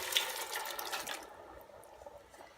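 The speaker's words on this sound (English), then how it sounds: "now I'm going to add all that beef and broth." Beef and broth pour into a Dutch oven of cooked-down onions for a beef and veggie soup, a close splashing rush of liquid that fades to a softer trickle and sizzle after about a second.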